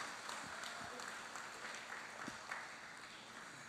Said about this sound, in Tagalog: Pwede po bang pumalakpak tayo o bilang pagpapakita ng suporta sa kanila?